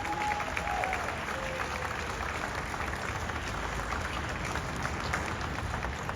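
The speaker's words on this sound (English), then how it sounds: "let's have a round of applause for all three of those groups" A round of applause at a hotel grand opening, a dense, steady crowd clapping throughout, fairly distant and even.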